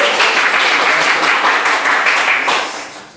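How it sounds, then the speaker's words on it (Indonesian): A group claps for a colleague at the close of a teacher-training teaching session: dense, steady applause that runs for about three seconds, then begins to thin and fade near the end. "tepuk tangan sekali lagi untuk rekan kita"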